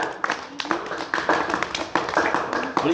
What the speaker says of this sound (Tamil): கைத்தட்டு ஜோயாமாக்கு.